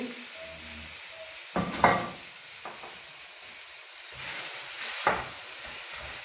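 Squid sizzles and fries in a pan under a steady hiss, with a couple of louder clattering stirs and scrapes of a utensil.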